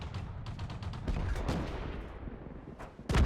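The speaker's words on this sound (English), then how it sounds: "Let's see if we can get the finishing shot." Gunfire from an SU-18 open-top British tank destroyer in World of Tanks, faint battle shots and thuds ending in a sharper, louder blast.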